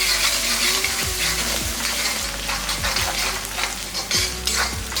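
Small onions sauté with salt in a pan, a continuous close sizzle broken by regular metallic clinks and scrapes of a spoon against the pan.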